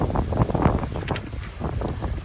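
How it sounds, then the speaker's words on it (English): Wind buffets a microphone along a creek-side bike trail in Winnipeg, producing a continuous low rumbling roar with gusty surges throughout and no clear speech. "Again, apologies for the wind."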